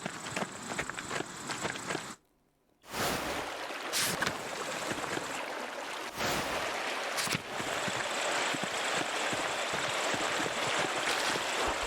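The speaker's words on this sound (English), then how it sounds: "The waterfall must flow down from the snow melt in the mountains above the Abbey." Steady broadband rush of a waterfall at a mountain shrine in the video game Pentiment, a continuous roar broken by a brief silent gap and a few soft shifts.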